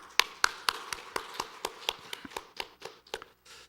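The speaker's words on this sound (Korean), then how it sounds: "우리 함께 축하의 박수 한번 보내시면 고맙겠습니다" Congregation clapping in celebration during a Sunday morning church service, a sparse series of distinct claps in an irregular rhythm, fairly close and tapering off toward the end.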